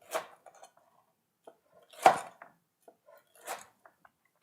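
Crispy fried tonkatsu tater tots being cut with a knife, a few sharp, separate crunches and crackles with small clicks between them, close and clear against near silence.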